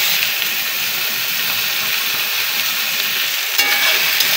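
Shrimp frying in hot oil with onions added and stirred in a home kitchen, a loud, continuous close sizzle with a brief scrape of stirring near the end and no talking.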